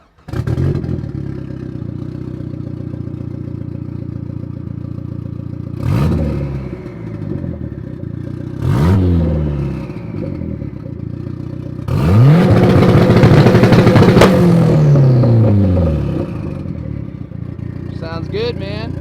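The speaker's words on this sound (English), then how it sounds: "let's start it up and get a little bit of a rev" A modified 2005 Dodge SRT-4 with a turbocharged engine starts up and idles loudly, then gives several sharp revs, the longest near the end, with engine clatter between bursts.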